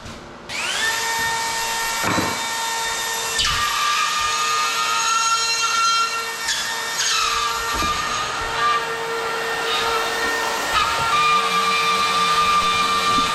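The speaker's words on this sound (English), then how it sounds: "That's the Flex cordless drywall router that he's using." A Flex cordless drywall router whines loudly as it cuts drywall, a high steady tonal scream that shifts pitch as the bit moves through the board, continuous and close with no talking.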